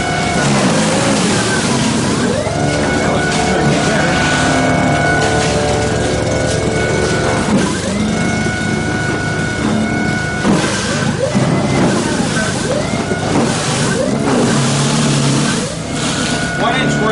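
Snow Joe iON18SB 40-volt cordless electric snow blower struggling through wet, heavy snow, a loud steady motor whine that dips and rises in pitch as it bogs under load, heard close and continuous.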